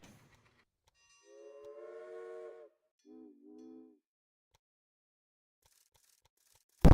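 A steam locomotive whistle from the Railway Empire video game sounds two clear, sustained chime blasts, a longer one followed by a shorter one, isolated in otherwise quiet surroundings.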